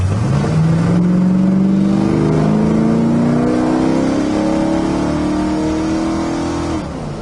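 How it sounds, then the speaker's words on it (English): A 1966 Pontiac GTO engine revs up hard and holds at a high, throaty pitch, loud and close, with an open carburetor roar before easing off at the end. "carburetor's open and you can hear that"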